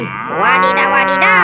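A toy farm animal plays a recorded cow's moo, a loud, close, drawn-out lowing call, with a child-directed voice exclaiming briefly over it.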